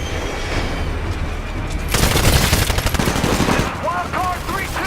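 Automatic weapons fire in the Titanfall militia campaign, a sustained loud burst of rapid gunshots over battle noise and music, fading into lighter shots and a few high electronic chirps.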